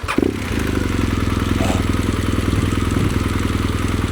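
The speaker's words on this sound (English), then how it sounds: "pull the clutch in and start the bike" An adventure motorcycle engine cranks over and catches, then settles into a loud, steady, throbbing idle with an even low pulse, close to the listener and without talking.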